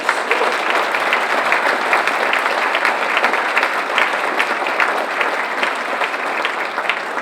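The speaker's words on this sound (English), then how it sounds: "Let's give them a round of applause" An audience gives sustained applause for students honoured at a school board of trustees meeting, many hands clapping in a loud, steady, crackling stream lasting several seconds.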